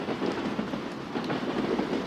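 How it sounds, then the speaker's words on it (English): Steady rain patters against the window of a moving train, a dense, even wash of drops with a low rumble underneath, continuous and fairly close throughout. "Rain drifts in gentle curtains over the window, silver threads dissolving before they reach the sill."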